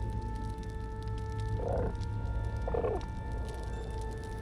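A hooting owl-like creature in Baldur's Gate 3 calls twice, two short mid-pitched bursts about a second apart, moderately close over a steady game ambience hum.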